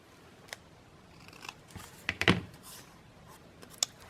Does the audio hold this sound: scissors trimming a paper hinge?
yes